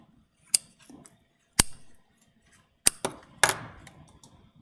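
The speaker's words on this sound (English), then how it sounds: "you're going to cut those warp threads right down the middle" Scissors snip through loom warp threads while mug rugs are finished, giving four sharp separate cuts spaced a second or so apart, close and crisp against near silence.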